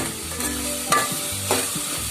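Tomatoes cooking in a pan for paneer matar pulav, stirred with a couple of scraping strokes over a steady close sizzle, brief and without talk.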